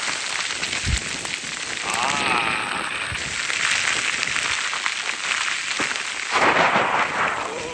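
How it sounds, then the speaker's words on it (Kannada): Rain falling steadily on Kumara Parvatha mountain peak, a dense close hiss of drops that swells louder near the end, with faint voices in the background. "ಇದೇ ಮಳೆ ಬರ್ತಾ ಇದೆ"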